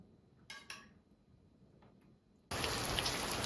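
In a village, after a quiet stretch with a couple of faint clinks, a dense hiss of rain abruptly starts and continues loudly and steadily.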